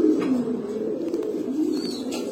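A large pigeon from a pair offered for sale gives a soft, close, sustained coo lasting a couple of seconds, rising and falling gently with faint background noise.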